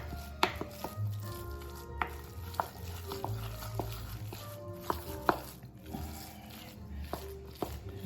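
A spoon stirring sage cornbread dressing in a pan or bowl, sharp scraping knocks repeating every half second or so against a low background hum, close and fairly quiet.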